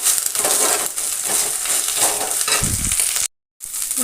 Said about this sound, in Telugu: ఇది ఇలా బాగా ఫ్రై అయ్యేటప్పుడు కొంచెం కరివేపాకు వేసుకుందాం